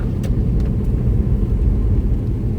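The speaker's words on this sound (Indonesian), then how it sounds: "lepas kopling pelan-pelan, injak gas ya. Injak gas seperti itu. Nah, masuk gigi 3." A manual car accelerating in third gear on a city street, a loud, steady low engine rumble heard from inside the cabin with no talking.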